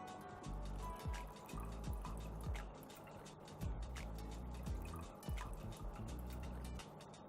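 Hot water pouring and splashing out of a teapot, with bubbly gurgles and drips that rise and fall over several seconds.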